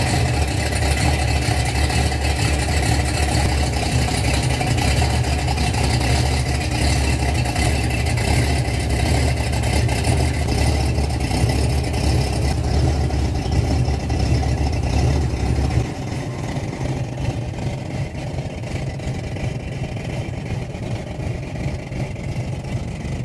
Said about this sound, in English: So we're gonna start it up and take it for a ride?